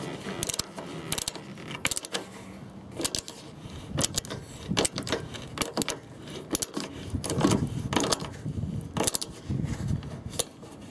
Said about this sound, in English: My wrench didn't work, so now I have a Torx screwdriver